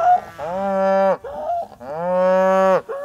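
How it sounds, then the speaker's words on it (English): Northern Dairy Shorthorn cattle from a suckler herd moo twice, two long, loud, close lowing calls with a short gap between them, with no talking. "So these are our Northern Dairy Shorthorn cattle."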